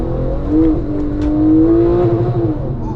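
Tuned Porsche 911 997.2 Turbo with 690 hp, heard from inside the cabin as the engine drones and rises steadily, a loud, smooth tone that swells and then holds.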